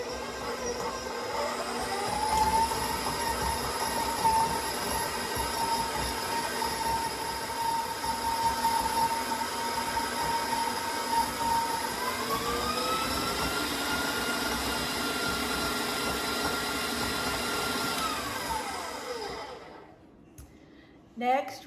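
Stand mixer beating egg into sourdough cookie dough. It gives a loud, steady motor whir with a high whine, running continuously before winding down and stopping near the end.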